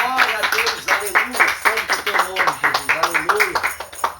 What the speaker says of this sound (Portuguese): Receber ele com palmas para Jesus